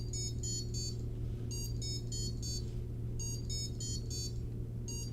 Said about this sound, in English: So you should be hearing 4 notes, and then it rests for 4 beats and does it again.